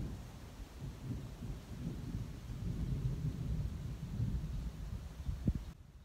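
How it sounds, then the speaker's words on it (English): Thunder from a storm rolling in over a lake, a low, distant rumble that swells and fades for several seconds under gusting wind, with no voices. "There's the thunder clouds right over there."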